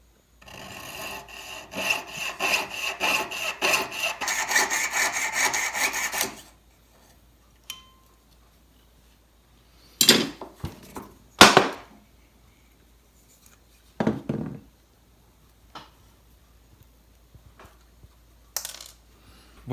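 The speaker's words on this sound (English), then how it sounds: "I have a saw blade on here, and we're basically just going to cut this." A jeweler's saw blade cuts through a bent metal ring shank with a quick, steady rasping stroke for several seconds, then stops, followed by a few scattered sharp clicks and knocks of the tool and workpiece.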